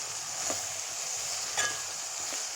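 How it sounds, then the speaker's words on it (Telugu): Curry of salted fish and brinjal with turmeric and salt cooking in a pan, a faint steady sizzle broken by a few soft stirring scrapes, one a little louder. "ఒకసారి కలిపేసుకొని"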